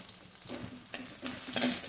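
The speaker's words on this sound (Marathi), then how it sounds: "कांदा आपला व्यवस्थित परतून झालेला आहे।" Onion and tomato sautéing in a pan for dal tadka, with a soft steady sizzle and a few stirring scrapes, quiet and close, no talking.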